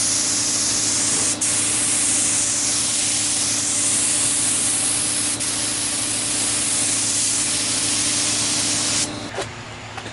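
A paint spray gun hisses loudly and steadily for about nine seconds while laying a first coat on a Jeep Wrangler TJ body, with a brief trigger release near the end.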